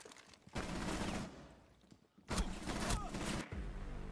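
Bursts of rapid gunfire in a Rainbow Six Siege match, two dense volleys of close shots with a short lull between and a final burst fading out, with no talk over them.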